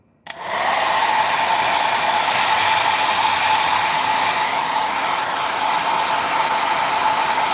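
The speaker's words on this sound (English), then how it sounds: "I'm putting on my blow dry" A hair dryer starts abruptly and then blows at a steady, loud, close whoosh for several seconds without pause, with no voices over it.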